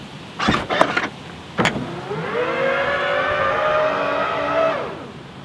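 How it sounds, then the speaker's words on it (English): A Hansshow aftermarket power frunk on a Tesla opens, starting with several quick latch clicks and a thunk, then a rising electric motor whine that holds steady for a few seconds before winding down, close and clear. "Hansshow Frunk open sound."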